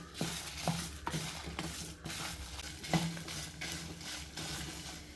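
Dried chilies and curry leaves frying in a pan, a steady close sizzle with repeated clinks and scrapes of a stirring spoon.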